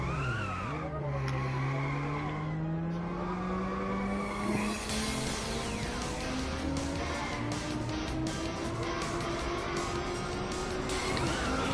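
A racing car, the Gecko, in the video game Twilight Rivals accelerates steadily with a rising engine whine, and its tires squeal and skid through corners. The engine is loud and continuous throughout.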